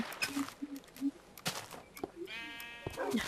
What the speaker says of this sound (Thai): เสียงแกะเสียงหมาเสียงหมาเยอะ มีแต่หมากับแกะแถวนี้